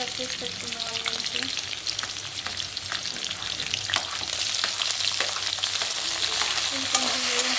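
Chopped onions fry steadily in hot oil alongside green chillies for a curry, a continuous close sizzle with occasional stirring scrapes running throughout, no voices.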